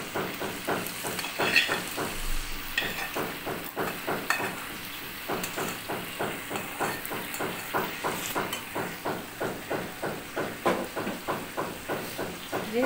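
Chicken pieces and fried potatoes sautéed in oil in a pan, with a steady sizzle broken by regular scraping stirs of a spatula, close and fairly loud, with no talking.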